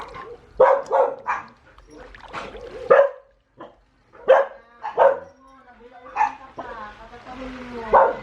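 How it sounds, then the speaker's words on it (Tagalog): Several dogs bark in short bursts, some yelping and whining, close and loud with irregular rhythm, as voices talk among them. "Daming aso."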